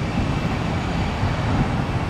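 A Frontier airliner rolling for takeoff on runway 1 left at Tampa, heard as a steady, loud, broad jet roar with deep rumble that holds evenly throughout, with no voices.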